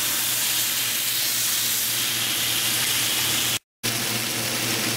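Flank steak sizzles steadily in a hot pan, a loud continuous hiss with a low hum underneath, cut by a brief moment of silence near the end.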